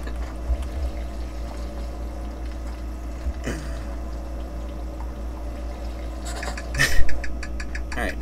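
Water pours steadily from a watering can in the video game Smigmore's Nightmare, a continuous close gush with a few brief splashes and clatters near the end.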